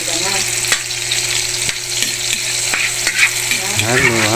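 Garlic, onion, tomato and mixed vegetables sauté loudly in a hot pan. A dense, steady sizzle runs throughout, with repeated sharp spatula scrapes and stirs close by.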